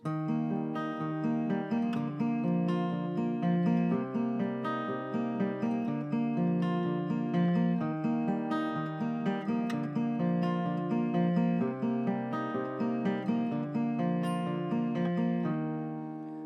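Fingerpicked guitar plays a song at full speed, a steady, fast pattern of plucked notes, bright and continuous with no talking, fading slightly at the very end.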